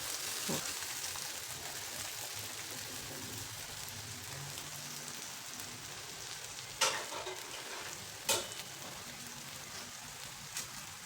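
Bottle gourd thalipeeth (dhapate) frying on a pan: a steady, soft sizzle throughout, with a few sharp clicks or taps from handling, and no voices.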